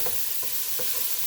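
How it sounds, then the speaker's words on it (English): Food sizzles steadily in a hot pan, with a few brief scraping stirs breaking through the crackle. "you hear that sizzle. This is what we want to hear."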